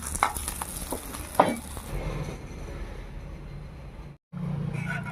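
Dried salted fish frying in a pan with chili powder, a soft steady sizzle with a few scraping stirs near the start, close and low in level, briefly cut to silence near the end.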